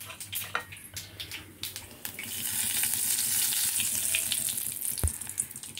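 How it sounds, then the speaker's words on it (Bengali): Ingredients for a lau pata bata dish fry in a pan over very low heat, giving a soft continuous sizzle and watery hiss that grows fuller midway, with scattered clinks and one sharp knock near the end. "এগুলো আগে ভেজে নিতে হবে। আঁচটা আমি একদম কমে রেখেছি যাতে পুড়ে না যায়।"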